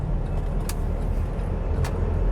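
A 2013 Chevrolet S10 LTZ Flex 4x2 pickup with a manual gearbox accelerates from 0 to 100, giving a steady, loud engine and road roar broken by two brief sharp clicks.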